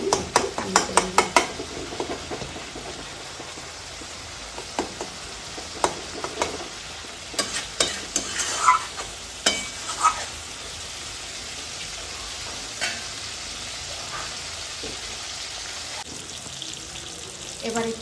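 A spoon scrapes and stirs spice paste frying in oil in a home kitchen, with sharp clattering knocks against the pan over a low, steady sizzle, busiest at the start and then more scattered.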